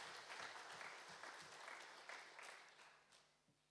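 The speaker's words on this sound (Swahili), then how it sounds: "Tumpigie makofi." Congregation clapping during a Kikuyu-language Sunday church service, a rhythmic burst of hands with a few sharper claps, gradually fading and thinning out toward the end.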